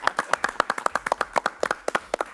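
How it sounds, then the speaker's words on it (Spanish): Rhythmic clapping in a Spanish-language Christian television studio show, a steady run of about twenty sharp claps from a small group, fairly close and loud with no talk. "Amiga, tienes que aplaudir bien"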